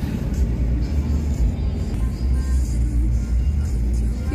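A car being parked near a crowded mountain coffee stall at Tangkuban Perahu, Lembang, heard as a steady low engine rumble from inside, close and continuous, with faint voices.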